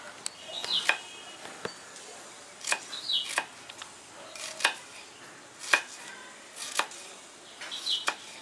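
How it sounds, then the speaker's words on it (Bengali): Knife chopping onion on a cutting board in a home kitchen, a series of sharp, close cuts falling in irregular bursts and clusters, moderately loud with no talking. "তাহলে একটু পেঁয়াজ কেটে নিই"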